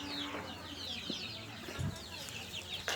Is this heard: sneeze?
no